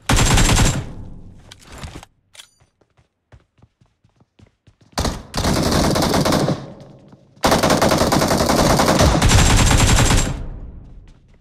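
Loud, close automatic gunfire in PUBG Mobile comes in three long sustained bursts, separated by a quiet stretch with a few scattered single shots and clicks.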